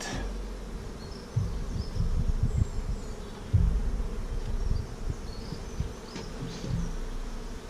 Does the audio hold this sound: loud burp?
no